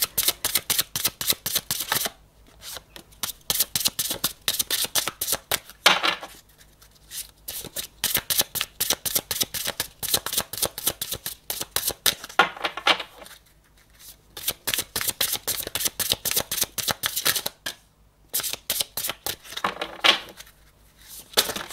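Tarot cards shuffled by hand and drawn from the deck, a long run of rapid crisp flutters and snaps coming in steady bursts separated by short pauses, close and clear with no talking.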